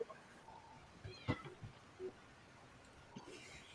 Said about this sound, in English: And then I heard a cat behind you, Joe.